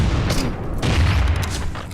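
Exploding rounds fired in the video game FireFall: a dense burst of booming blasts and crackling impacts, loud and close, no talking.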